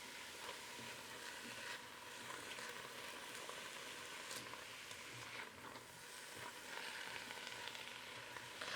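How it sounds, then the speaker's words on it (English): A utensil scrapes the bottom of a Ninja Foodi pot holding sausage, the steady scraping and stirring mixed with a constant low sizzle from the pot throughout, fairly quiet and with no talking. "what I'm doing right now is just scraping the bottom because we're about to put the pot under pressure"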